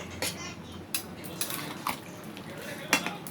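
Chicken with chilli sauce is stirred in a pot, with a spoon knocking and scraping against the metal in several separate clinks over a low background hiss, close and without talk.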